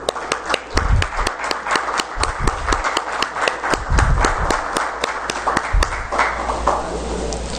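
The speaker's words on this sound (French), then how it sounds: "Veuillez applaudir, s'il vous plaît" Audience clapping in Haiti after a handmade Haitian flag is presented to Naomi Osaka; loud, sharp individual claps in a fairly steady rhythm that fade out after about six seconds.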